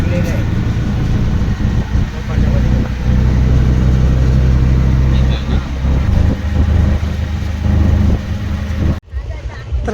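An auto rickshaw engine runs on the ride from the station to Gavhan village, a close, loud, steady low drone with people talking over it throughout, before it cuts off abruptly near the end.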